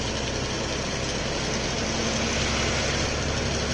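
A vehicle's engine drones steadily from inside while it drives along a road, with a loud, constant broadband rumble and road noise throughout and no speech.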